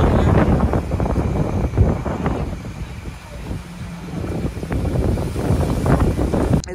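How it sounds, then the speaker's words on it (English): Wind buffets the microphone outdoors at a low-tide shore with a steady low rumble, rising and falling in gusts throughout. "Kind of windy out here."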